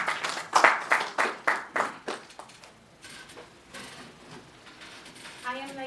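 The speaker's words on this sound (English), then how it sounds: "A round of applause for that, please." Brief clapping from a book launch audience, several sharp claps in a quick burst up front that fade into quieter scattered noise and a murmur.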